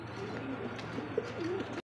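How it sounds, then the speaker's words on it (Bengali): A Recipe Beauty pigeon coos softly and closely, a few low rolling calls in one short burst against quiet background noise, with no voices present. "রেসিপি বিউটি বর্তমানে খুবই রেয়ার, খুব রেয়ার, খুবই দামি আর ডিমান্ডের একটা কবুতর"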